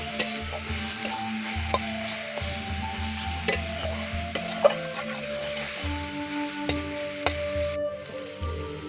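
Amrul greens (sour wood sorrel leaves) with chili, cumin and coriander powder being stirred in a frying pan, a steady sizzle with repeated scraping strokes of the spoon, close and continuous.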